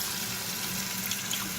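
Tap water runs steadily into a PUR filter pitcher, filling it to soak a new replacement filter; a continuous close splashing pour with no talking.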